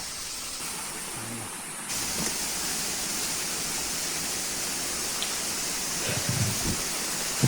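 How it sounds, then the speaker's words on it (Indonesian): A mountain river rushes through a ravine below a hiking trail, giving a steady broadband wash of flowing water that holds constant throughout with a few faint knocks near the end. "suara aliran sungai mulai terdengar di sisi sebelah kiri jurang"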